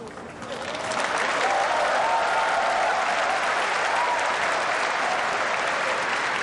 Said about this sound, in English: Ooh, the crowd love that one.